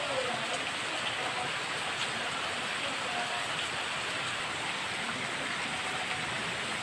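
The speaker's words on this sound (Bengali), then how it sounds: "জোরে বৃষ্টি হচ্ছে।" Heavy rain pours steadily outdoors beside a cooking stove, forming an even, dense hiss of drops with no pauses.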